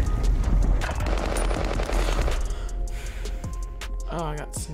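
Gunfire in the battle royale game Warzone, a dense stretch of rapid shots and crackling fire with a sharper sniper report near the end, mixed with game sounds and talk.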